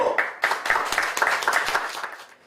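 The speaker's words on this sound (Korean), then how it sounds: "박수!" Lively clapping from an audience at a lecture on the Kim Young-ran anti-graft law, many hands close by in a short burst that fades out after about two seconds.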